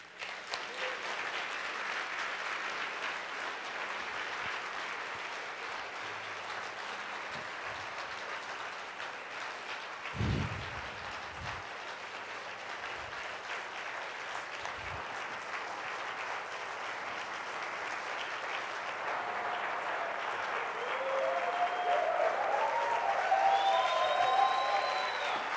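Church congregation clapping together during a Sunday service, a steady wash of applause that holds for the whole stretch and swells slightly louder toward the end.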